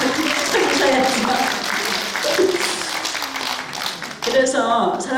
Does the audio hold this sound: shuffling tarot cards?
no